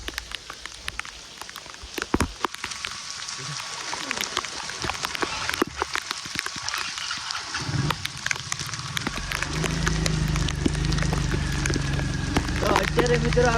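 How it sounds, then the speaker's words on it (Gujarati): Heavy rain pours down in a village, a steady broadband wash with scattered drops and thumps, building louder toward the end; a voice is faintly present at times. "બહુ ફાસ આવી ગયો તો બહુ વરસાદ આવે છે"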